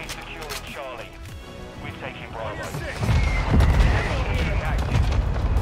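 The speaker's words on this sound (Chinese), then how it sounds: "迫击炮出" Mortar strikes land in the video game Call of Duty: Modern Warfare 2 (2022), with a heavy booming burst about midway that leaves a loud rumbling roar, while excited voices talk over the game.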